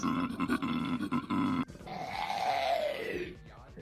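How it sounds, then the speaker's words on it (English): A low, rhythmic grunting snore gives way to a long, rasping bellow, close and moderately loud, from a male koala. "Some people call it a koala roar."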